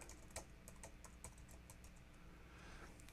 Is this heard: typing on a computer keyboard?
yes